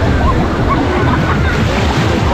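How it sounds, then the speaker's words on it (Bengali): Shallow sea surf washes in over bare feet at Udaipur beach near Digha, a steady close wash of water with wind buffeting the microphone throughout. "আর আমরা ঠিক পায়ের তলায় এখন জল চলেছে।"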